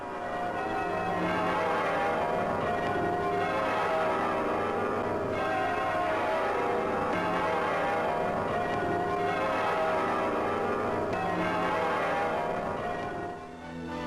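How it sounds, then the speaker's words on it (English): Cathedral bells in Liverpool peal for the first time at a formal royal ceremony. A dense, continuous wash of overlapping bell tones rings on for about fourteen seconds, slightly muffled in an old newsreel recording. "the princess gives formal permission for the bells to be rung for the first time"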